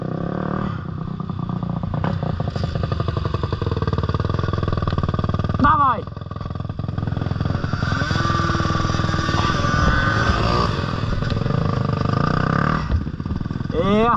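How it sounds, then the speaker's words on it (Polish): A motorcycle engine idles with a rapid, rattling putter, then revs up in a few sharp bursts, close by and loud throughout. "Odpal ten motor."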